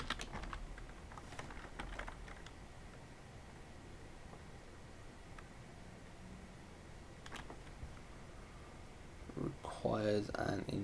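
Scattered computer keyboard keystrokes come close and quietly in the background, a few clicks early and late, with someone talking near the end.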